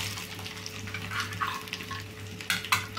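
Cumin seeds and finely chopped ginger fry in a pan with a steady close sizzle, broken by scraping stirs and light clinks of a spoon against the metal.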